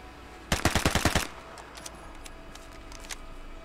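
A secondary weapon in the video game Vigor fires a quick burst of about seven rapid, sharp shots, loud and close, followed by quieter scattered clicks and faint ambient game sound.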